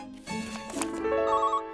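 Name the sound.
telephone ringing in cartoon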